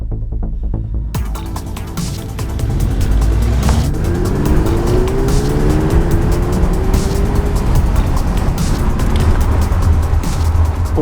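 A car fitted with Eibach suspension accelerates, its engine building to a loud, steady throbbing roar with rising tones partway through, continuous and close for the whole stretch with no talk.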